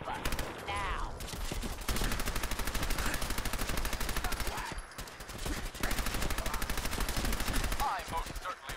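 Rapid automatic gunfire in Fallout 4 rattles in long, loud, evenly spaced bursts with a brief pause midway, punctuated by occasional voices and game effects.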